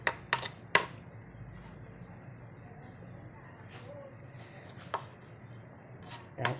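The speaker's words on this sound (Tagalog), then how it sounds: "Kagayat muna tayo sibuyas." Onions being chopped on a board in a home kitchen give a few sharp knocks, clustered at first and then scattered, close but fairly quiet against a low background hum, with no talk.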